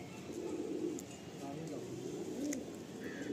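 Madrasi pigeons coo in low, rolling, repeated calls, close by amid a steady hum of background noise, with people talking nearby.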